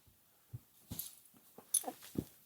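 A small Havanese dog whimpers in a series of short, soft whines and faint wheezy breaths, close by and quiet, with no talking over it.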